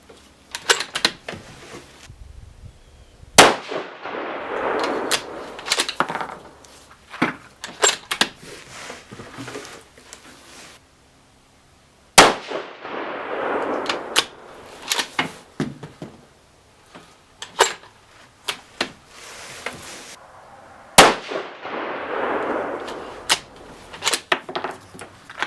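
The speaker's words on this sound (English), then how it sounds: "we're going to go ahead and shoot our last group here." Rifle shots from a 6mm ARC rifle firing 87-grain Hornady V-Max loads at a shooting range, heard as sharp, loud cracks spaced a few seconds apart, followed by scattered clicks and handling noises.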